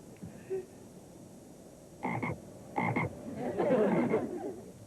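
A frog croaking in three short bursts, each a pair of quick raspy pulses, the last one longer and rougher, with quiet gaps between.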